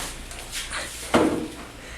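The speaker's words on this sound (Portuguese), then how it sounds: "Deixa eu fechar a porta." A door swings shut with a single muffled wooden thud, preceded by faint shuffling and handling noises nearby.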